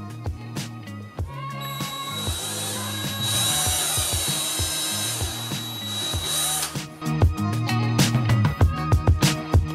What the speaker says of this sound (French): je suis allé chercher la perceuse